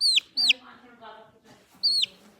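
A young chicken gives three sharp, high chirps, with soft clucking murmurs between them, close and clear, alone with no talking.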